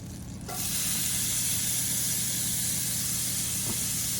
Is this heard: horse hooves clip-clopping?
no